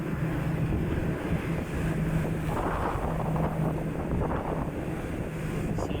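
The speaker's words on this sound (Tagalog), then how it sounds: "So ganyan yung alon dito." Wind and ocean waves roar aboard a ship on the Indian Ocean, a loud, continuous wash of buffeting air and sea with a steady low engine hum beneath.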